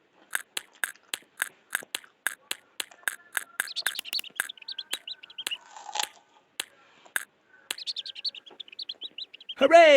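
Hungry chicks in a Peppa Pig video game chirp in a quick, regular series of sharp tweets, then scattered bursts of cartoon chirps and a final rising squeal, close and clear with no talking.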